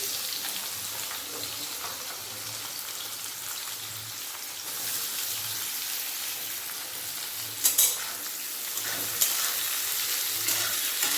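Green chili and chopped onion frying in a little oil, with bay leaves, as a base for a spicy mutton curry: a steady, broad sizzle with soft stirring scrapes throughout and a few sharper crackles near the end, no talking.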